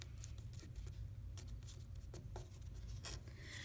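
Paper being folded by hand for a bracelet, with repeated crisp rustles, creases and short scraping strokes close to the microphone over a steady low hum, with no talking.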